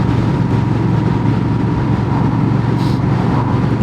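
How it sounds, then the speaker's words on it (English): An 1100cc motorcycle engine pulls steadily in sixth gear at about 50 mph, a continuous loud low drone with wind rush that holds even and unbroken from start to finish. "even in 6th gear at 50 miles an hour, you feel it wants to pull very easily"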